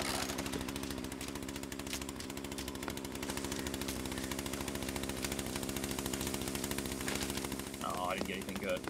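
Rapid SMG bursts from a firefight in the video game The Culling, dense rattling shots running almost continuously, fairly faint under game noise, with players talking over it.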